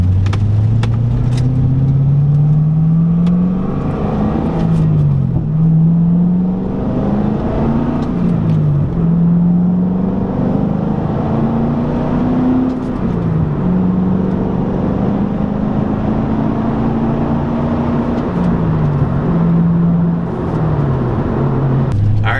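A loud LS3 V8 car engine with open exhaust pulls hard through several gears, pitch climbing then dropping at each shift, with a deep, raw exhaust roar throughout.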